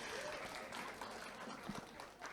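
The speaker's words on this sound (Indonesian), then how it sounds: "Tepuk tangan dulu untuk narasumber kita." Guests on a radio broadcast at RRI Toli-Toli, including a KPU Toli-Toli official, are greeted by a studio audience with steady, moderate applause that carries on for a few seconds without a break.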